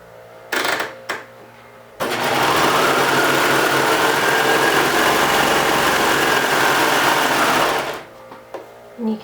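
A sewing machine stitches a ruffled baby diaper cover with its stitch length set short, a loud steady run of about six seconds framed by a few short bursts.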